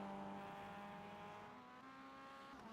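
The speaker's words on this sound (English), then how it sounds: "Downshifting, you can hear some of these drivers." Race car engines in the iRacing video game whine and drop pitch as they downshift, a continuous buzzing tone, moderately faint, with some tire and road noise underneath.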